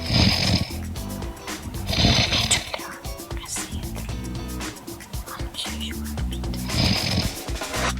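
A person snoring at about three in the morning, with loud, rasping breaths that repeat in a slow rhythm and sound close to the microphone.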